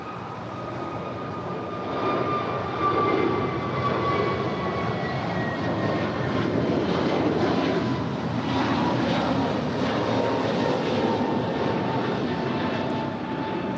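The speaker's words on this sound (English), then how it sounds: "This is Alaska Airlines 881 departing to Seattle, Tacoma. It's an A321neo." An Alaska Airlines Airbus A321neo departs Los Angeles airport for Seattle-Tacoma, a sustained jet roar with rising and falling engine whine tones, fairly close and swelling after the first seconds.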